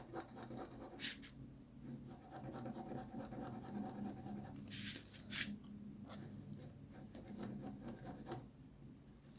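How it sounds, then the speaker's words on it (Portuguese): A pencil scratches steadily across paper in wavy strokes, shading a wood floor texture in a freehand drawing of a room, faint and close with a few sharper strokes. "Aqui eu estou fazendo a textura do piso, movimentos sinuosos, para dar esse efeito de madeira."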